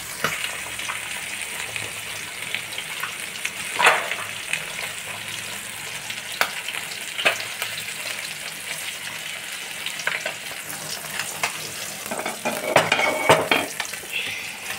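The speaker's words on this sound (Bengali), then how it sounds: "কাঁচা লঙ্কা নারকেল কোড়াটা ভাজা হচ্ছে" Green chili and grated coconut fry in a pan over low heat, a steady soft sizzle broken by repeated scraping stirs and spatula clinks, close and continuous with no speech.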